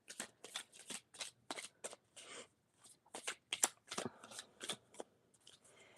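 Crystal Visions Tarot cards are shuffled up close in a quick series of crisp riffling bursts with brief pauses between them, and nobody talks.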